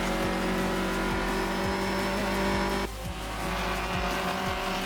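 An open-wheel race car in a racing video game drones with a loud, steady engine tone, then drops abruptly in pitch as it downshifts while coasting. Faint ticking clicks recur underneath.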